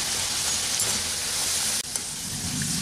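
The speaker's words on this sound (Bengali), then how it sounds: "আর আলুটাকে আমি হাই ফ্লেমে ভেজে নিচ্ছি।" Potatoes deep frying in hot oil over a high flame for crispy potato fry, a loud, dense, continuous sizzle and hiss that briefly dips once before resuming.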